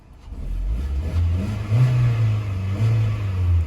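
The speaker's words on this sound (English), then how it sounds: "Seems to be stopped and idling pretty fine." A used car won at auction sits parked with its engine idling steadily, a low, even rumble that holds close and loud throughout with only slight swells in level.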